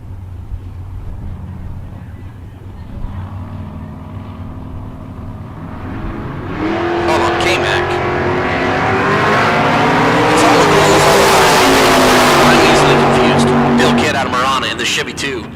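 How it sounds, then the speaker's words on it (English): A drag racing roadster at a Rancho Cucamonga bracket race builds to a loud, roaring engine run that swells and holds for several seconds, while an announcer talks continuously over a busy outdoor track background. "That is Peabody in the Roadster at Rancho Cucamonga"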